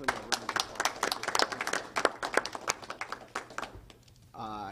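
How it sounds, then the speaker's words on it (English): A room full of people claps for the outgoing fire chief at a Shreveport mayoral announcement, bright uneven claps rolling for about four seconds before fading, then a voice begins speaking. "a round of applause."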